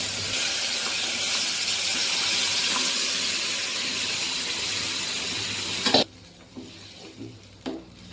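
Red chilli powder roasting in a pav bhaji mixture, a loud, close, continuous sizzle and hiss that cuts off abruptly near the end, leaving a few quiet scraping stirs.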